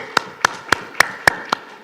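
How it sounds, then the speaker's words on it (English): Applause after a presentation in a conference breakout session: six sharp, evenly spaced claps close to the microphone, a slow steady rhythm rather than a full crowd. "Just a round of applause."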